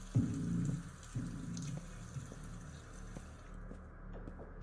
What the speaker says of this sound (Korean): 물소리 난다